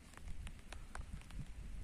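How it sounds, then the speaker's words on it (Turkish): Light rain patters down in the Turkish countryside near Samsun, with soft scattered drops ticking on surfaces over a faint low rumble, quiet and steady for a couple of seconds. "Bu kadarcık yağmurdan bir şey olmaz"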